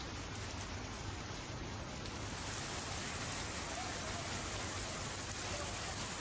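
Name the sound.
rain shower falling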